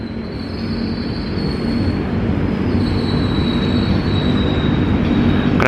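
The Taksaka train rolls through Cipinang with a loud, continuous roar of wheels and carriages and a thin, high wheel squeal running over it. The squeal fades and returns, and no one speaks.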